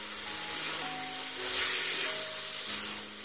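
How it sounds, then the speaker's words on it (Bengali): Soya chunks and broccoli sizzling in a pan as chopped coriander is stirred in, a steady close frying hiss with soft scraping of the stirring and faint tonal hums underneath, no voices. "ধনে পাতা কুচিগুলো দিয়ে আমরা হালকা নেড়ে নিচ্ছি।"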